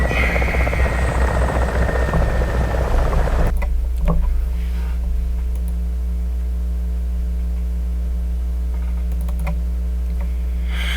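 A helicopter in the ArmA 2 video game, in the Namalsk Crisis Stalker mod, makes a loud, steady rotor and engine roar that cuts off abruptly. Keyboard clicks and a low steady hum continue after it.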